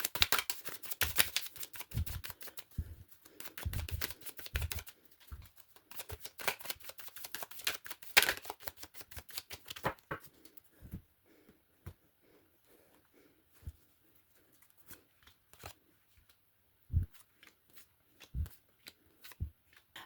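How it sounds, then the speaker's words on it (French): Tarot cards being shuffled by hand, with dense rapid riffling and slapping at first, then thinning into sparse single flicks and taps, close and with no talk. "Je tire les cartes et on regarde ça tout de suite."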